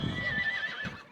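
A horse raised in a 4-H youth program gives one short whinny, a quavering, moderately faint neigh with no voices around it.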